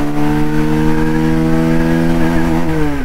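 A motorcycle revving hard and accelerating in first gear, a loud, close engine whine rising steadily in pitch over a few seconds, no voices.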